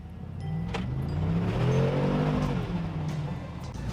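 A 2020 Mercedes G-wagon accelerates hard, its engine note climbing and swelling to a loud roar before easing slightly as it passes.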